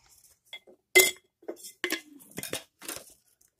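A cover set onto a container of homemade chai latte mix gives a few close, bright clinks and clatters with short gaps between them.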